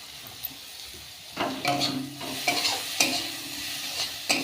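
Grated ginger dropped into a pan where it fries with salt and turmeric, a soft sizzle under intermittent stirring scrapes and a few spoon taps on the pan, close and moderately quiet.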